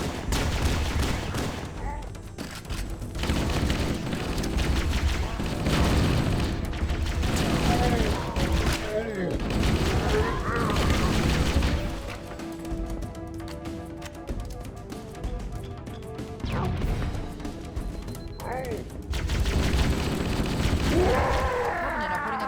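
Fully automatic rifle fire with a 50-round magazine in the video game Halo, loud sustained bursts amid battle noise and game music, with a voice speaking over parts of it.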